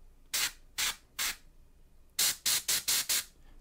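An airbrush sprays primer in short, sharp hissing bursts close up: three evenly spaced puffs, a brief pause, then five quicker ones in a row.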